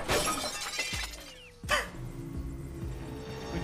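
Mirror glass shatters in a jungle video game level in one sharp, loud crash, and bright fragments scatter and ring out for a moment, with quieter game ambience before and after.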